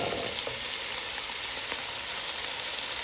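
Rinsed, drained canned chickpeas fry in a pan with a constant close sizzle, soft stirring clicks scattered through the bright crackling hiss, no voices.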